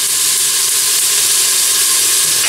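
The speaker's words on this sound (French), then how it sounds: "je vais mettre de l'ail à revenir dans de l'huile" Garlic frying in oil in a cooking pot gives a steady, loud broadband hiss and crackle that runs without a break, with no voices over it.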